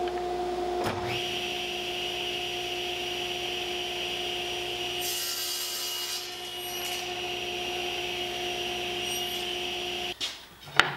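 Wood is fed through a table saw for a woodworking live edge table build. The blade whines steadily with a tonal hum, a rougher cutting roar rises midway, and a clatter follows as the cut finishes. There is no talking.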